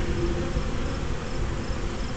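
Honeybees hum in a dense, steady drone around a hive on a warm fall day, fanning at the entrance, many wings buzzing together up close without a break.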